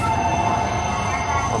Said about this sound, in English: So this is grand class